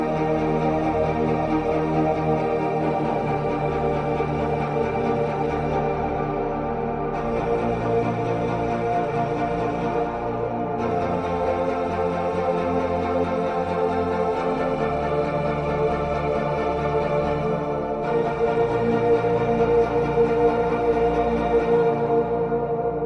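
A Neo Jupyter synthesizer patch plays alone: sustained, wide chords holding for several seconds each, changing at intervals, full and steady in loudness.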